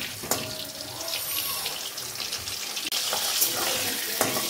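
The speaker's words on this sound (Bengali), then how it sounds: "তো এবার ফুলকপিগুলো ভেজে নিচ্ছি।" Cauliflower pieces frying in a pan of oil give a continuous close sizzle and hiss, broken by a few sharp clicks of stirring.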